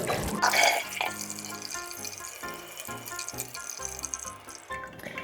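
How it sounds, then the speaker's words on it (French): Water runs steadily from a tap, splashing into a sink with a bright, continuous hiss and a few faint clinks. "Donc, on allume ce robinet."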